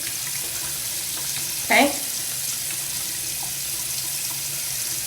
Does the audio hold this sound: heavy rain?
no